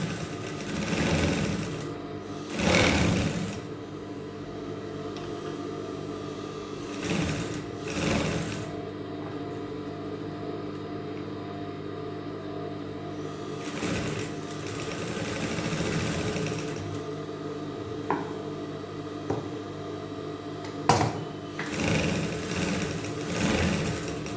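A sewing machine stitches two cut collar pieces together in several separate runs of fast, steady whirring and rattling, with short quiet pauses between them. No one speaks.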